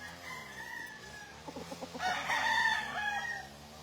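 A local banded stag crows at a gamefarm, a few short clucks building into a loud drawn-out crow near the middle that fades away, heard fairly close in a quiet yard.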